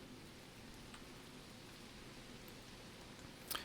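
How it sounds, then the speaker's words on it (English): Steady rain falling in the medieval city-building game Manor Lords, a soft continuous hiss over muddy paths with no talk, ending in a brief louder tick. "as you guys can see, it's raining and the paths are getting muddy"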